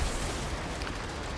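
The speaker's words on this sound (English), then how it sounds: "look at all this stuff blowing up" Dense, continuous rumbling barrage of explosions and gunfire from the chaotic mech combat game Brigador, loud and unbroken with no clear gaps between blasts.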